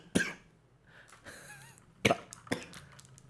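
Three sharp coughs burst out, one near the start and two more close together later, set against quiet room tone during a casual chat between friends.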